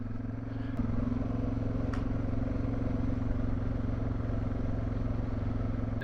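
An adventure motorcycle rides along a forest trail through a green tunnel of trees, its engine holding a steady mid-pitched drone with wind and faint rattles over it, no talk.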